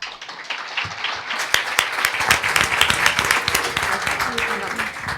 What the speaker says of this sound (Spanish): Así que démosle un aplauso a Julieta.